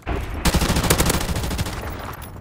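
AK rifle fire in a video game comes as a rapid burst of loud, close automatic shots that rattle on for about two seconds and then break off into a fading tail.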